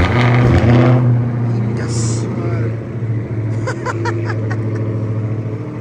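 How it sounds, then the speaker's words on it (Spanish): Two cars, one of them a Toyota Camry, start up together and settle into a loud, steady engine rumble, with people talking over it throughout. "Prende ambos carros al mismo tiempo."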